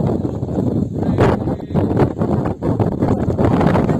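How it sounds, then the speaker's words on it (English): Strong, roaring wind with flying snow buffets the microphone continuously on a mountain peak, a dense rushing noise with gusts rising and falling, no voices. "Snow is flying, it's so windy."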